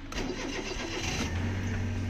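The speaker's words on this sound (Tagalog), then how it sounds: "So, nakandar na yung makina natin." A 2002 Suzuki Every Wagon DA62W engine cranks and catches, then settles into a steady low idle close by.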